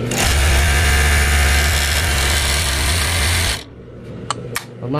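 A Pegasus W500 coverstitch sewing machine runs loud and steady for several seconds in a repair shop, then stops abruptly, leaving a few faint clicks and handling knocks.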